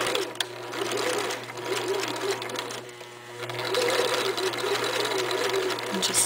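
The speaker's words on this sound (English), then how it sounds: "Okay, so we're going to go ahead and sew this." Sewing machine stitching fabric for a girls' summer top, a steady close mechanical whir that runs on continuously, dipping briefly partway through.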